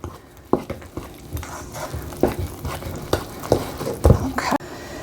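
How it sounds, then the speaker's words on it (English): Flour and salt being stirred into dinner roll dough in a bowl, with irregular scraping and thudding strokes, close and moderately loud. "we just need to stir this in and incorporate it"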